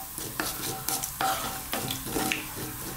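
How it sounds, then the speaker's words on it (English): Cumin and black mustard seeds sizzle steadily in hot oil for an aloo gobi curry, a close, continuous crackling hiss with small pops and occasional stirring scrapes. "We just need to get them into that oil, and as you can see, maybe they're just starting to cook a little bit."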